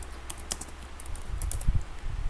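Keystrokes on a computer keyboard as a terminal command is typed, a quick irregular run of light clicks up close over a low background hum, no voices.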